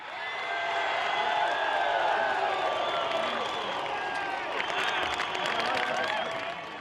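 Crowd applause and cheering for Yvonne Muller and Craig Lowndes, a steady swell of clapping with scattered whoops that holds for several seconds and tapers at the end.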